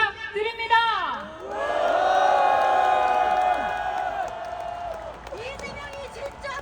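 A large outdoor crowd at a political rally in Korea calling for a special counsel roars and shouts, with a long swelling cheer that peaks and fades while a voice shouts over it, plus scattered whoops.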